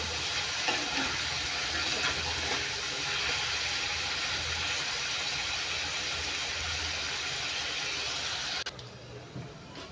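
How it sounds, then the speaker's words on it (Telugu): Paneer cubes frying over a low flame: an even, close hissing sizzle that holds steady, then drops off sharply near the end, with no talking. "సిమ్లో పెట్టి వేయించుకోవాలి, లేకపోతే మాడిపోతాయి."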